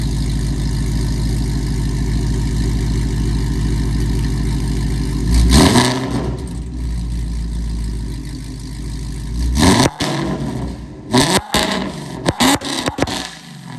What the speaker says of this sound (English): we give it a remote rev, let you guys hear it